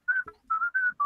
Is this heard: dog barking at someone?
no